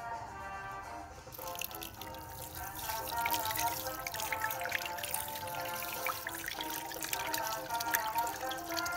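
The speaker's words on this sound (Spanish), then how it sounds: "ahora le vamos a poner el litro de agua" A litre of water poured into a Thermomix bowl holding a basket of rice, a continuous trickling, splashing pour with ringing tones that rises in level after a quieter start.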